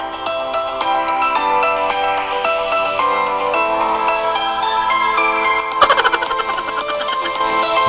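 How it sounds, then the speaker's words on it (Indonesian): A melodic ringtone plays loudly and clearly through the stereo speakers of a Xiaomi Poco X3 NFC phone, a continuous bright tune with layered tones and no talk over it. "Sangat keras ya, jadi sangat jernih untuk speakernya."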